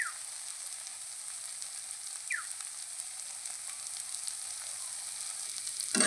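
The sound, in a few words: frying spices with chili, salt and turmeric powder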